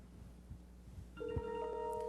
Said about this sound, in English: So hopefully Shannon's phone is now ringing